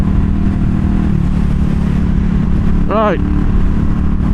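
A 2022 CCM Spitfire Bobber motorcycle's engine drones steadily and loudly while riding at highway speed, with a brief spoken word near the end.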